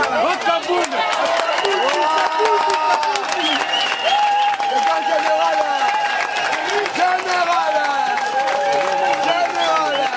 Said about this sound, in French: je vous invite vraiment à vous lever et à l'applaudir